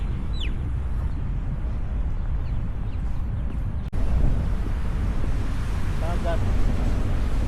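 Sea waves and wind rush steadily along a waterfront with boats nearby, a continuous broadband roar of surf and gusting wind noise on the microphone, with faint voices in the background.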